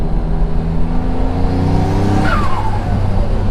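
A Mitsubishi 3000GT VR4 engine, its intercooler piping air leak newly fixed, runs loud and close with a deep steady rumble and a brief rising rev midway.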